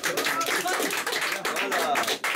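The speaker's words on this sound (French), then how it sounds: "on applaudit" Audience applause at a live magic show, a dense steady clapping from a room of spectators lasting a couple of seconds, fairly loud and close, with a brief dip near the end.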